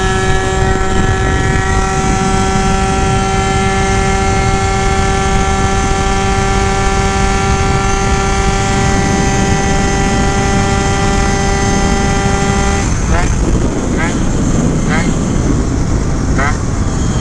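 A Phantom F12 RC boat fitted with a Stage6 overrange kit runs at full throttle, giving a loud, steady motor whine with strong tonal harmonics that breaks off near the end into choppier, surging noise.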